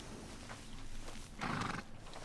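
Shire horse in the video game Red Dead Redemption 2, a faint snort and short breathy whinny with light shuffling, heard quietly at low volume.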